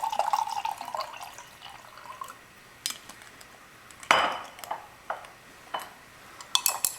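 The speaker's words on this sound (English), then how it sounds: "Put some more water in there." Water splashes and trickles into a container during a chemistry lecture demonstration, in brief uneven pours and drips with faint clinks of glassware, fairly quiet in a room.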